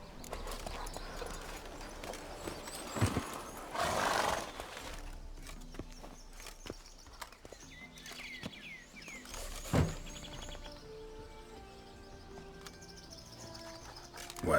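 A horse's hooves clip-clop at a gallop in The Witcher video game, a rhythmic hoofbeat run under game ambience with a brief whinny-like swell and soft birdsong, fairly quiet and no talking.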